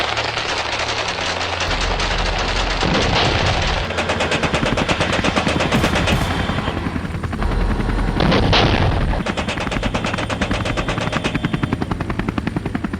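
A sustained burst of automatic gunfire mixed with helicopter rotor noise, loud and continuous from start to finish. Repeated rapid shots rattle over the aircraft drone, with no speech.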